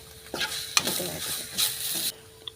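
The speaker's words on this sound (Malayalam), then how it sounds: "ഇച്ചിരി മീറ്റ് മസാല കൂടി ഇട്ടേ. അത് നല്ലോണം മൂത്ത് വരണം." Meat masala frying in a pan before squid goes in, with two short spatula scrapes over a crackling sizzle, heard close and brief with no talking.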